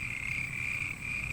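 Frogs croaking in a steady chorus, a continuous high trill over low throbbing calls, dense and unbroken throughout.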